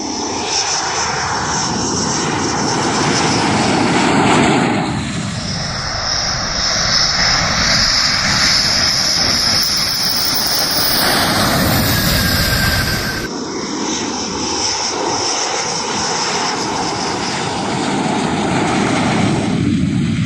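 Rafale fighter jets, newly delivered to India after a long ferry flight from France, roar steadily overhead, a loud continuous jet engine rush that swells and shifts in pitch across the whole stretch with no talk.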